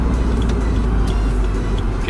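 A car driving along, its steady engine and road noise loud and continuous throughout, with no talking.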